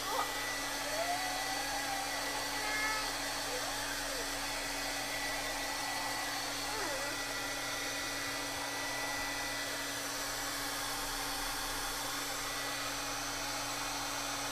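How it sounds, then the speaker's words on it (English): Close, steady whooshing roar of a heat gun blowing continuously, with a constant motor hum underneath, used on art journal pages. "Heat gun."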